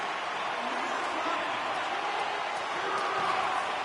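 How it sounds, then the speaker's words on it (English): Hockey arena crowd on its feet cheering and applauding the team after a hard-fought game, a steady broad roar of many voices filling the whole clip. "the crowd's on their feet saluting the team after a hard-fought effort this evening"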